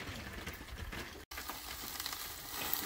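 Marinated beef fajitas and short ribs sizzling on an outdoor pit, a steady, close hiss and crackle of frying meat with a brief dropout partway through.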